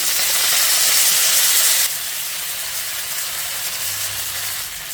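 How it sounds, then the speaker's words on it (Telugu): Coriander leaves frying in a little oil over a medium flame, a steady close sizzling hiss that is loudest at first and then settles to a softer, continuous fry. "ఈ కొత్తిమీరని ఇలా కలుపుకుంటూ ఒక 2 నిమిషాలు ఫ్రై చేసుకుంటే సరిపోతుంది"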